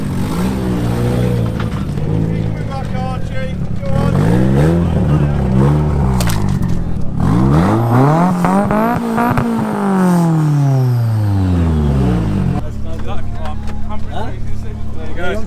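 A Nissan S15 engine revs hard at a car meet, with repeated rising and falling sweeps that climb and drop over several seconds, loud and close, while people talk nearby.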